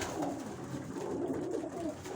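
Pigeons at a loft give soft, continuous cooing, a low, murmuring warble that rises and falls steadily at moderate distance with no voices.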